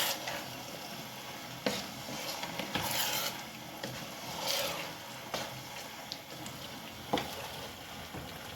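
Chicken biryani being stirred with salt in a pot: a steady scraping and sizzling stir with occasional sharper clinks of the spoon against the vessel, continuous and close, with no voices.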